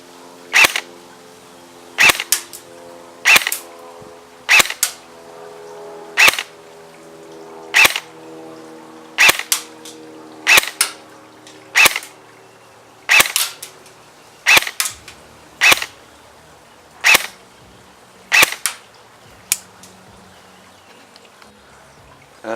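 KWA Ronin PDW airsoft gun firing 0.2 gram BBs on its highest FPS setting, a series of sharp, evenly spaced snapping shots, each crisp and close, with brief quiet gaps between them and no voices.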